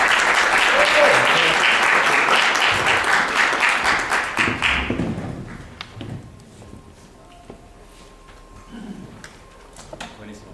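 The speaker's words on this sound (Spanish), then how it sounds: "Un aplauso, por favor." Audience applause at a talk on science, magic and spirit, as a speaker is introduced: dense, loud clapping for about five seconds, then fading into scattered claps and quiet room noise.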